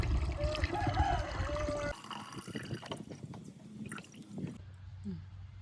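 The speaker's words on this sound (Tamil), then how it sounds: "இந்த த்ரீ ஜி கரைசலை ஒரு போட்டலில் ஊற்றி சேவ் பண்ணி வச்சுருக்க போகிறோம்" 3G solution (a homemade plant spray) pours and gurgles steadily into a bottle, then gives way to softer trickling and dripping, with faint handling sounds near the end.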